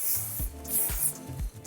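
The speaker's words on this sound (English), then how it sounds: "I just spray that all over my hair before I brush it out" Close, quiet hissing bursts from a can of texture spray sprayed onto hair, about four short sprays in a quick, even rhythm.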